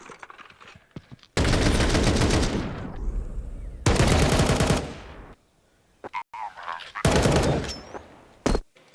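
Gunfire in a professional Counter-Strike match at IEM Cologne 2025, TheMongolz against Vitality, with loud sustained bursts of rapid shots in three clusters separated by brief quieter gaps.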